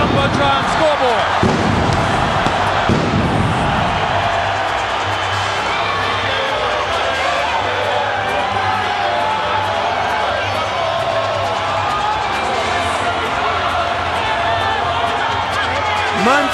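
Boxing arena crowd roars and cheers steadily as Oscar De La Hoya makes his entrance before his fight with Shane Mosley, a dense, continuous wash of voices with talk mixed in.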